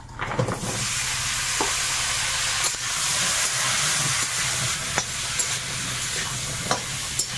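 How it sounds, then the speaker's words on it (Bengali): Sliced pointed gourd fries in hot oil with turmeric, salt and chilli powder, a continuous close sizzle with occasional stirring scrapes and clicks. "এপাশে পটলটা ভেজে নি, একটু হলুদ তেলের মধ্যে আর একটু লবণ দেব"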